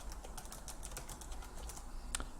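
Someone typing on a computer keyboard, producing a quiet, fairly fast run of light key clicks with a slightly louder tap near the end. There is no talking.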